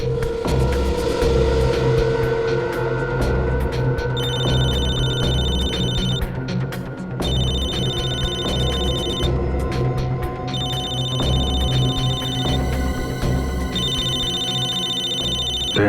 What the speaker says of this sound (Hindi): दया इसके मोबाइल पे क्यों फोन कर रहा है?